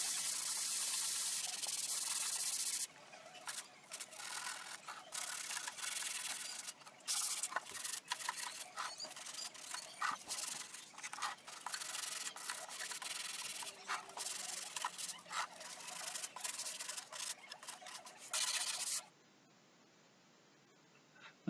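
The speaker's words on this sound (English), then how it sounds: "I'm just giving it all the sanding, ready for staining" An old wooden bird table is being sanded by hand, the coarse rubbing strokes running steadily and close for most of the stretch before stopping, with no voices.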